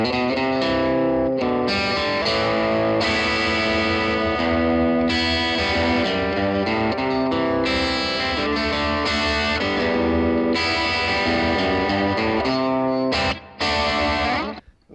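Stratocaster electric guitar through a Blackstar HT5R tube amp with the ISF control turned fully right, volume and gain near half, playing loud, sustained distorted chords and riffs continuously before cutting off near the end.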